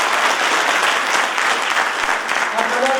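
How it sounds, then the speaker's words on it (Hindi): An audience at a university convocation ceremony applauds steadily. The dense, loud clapping fills a hall and continues evenly throughout. "तालियों में बड़ी कंजूसी कर रहे हैं हम लोग।"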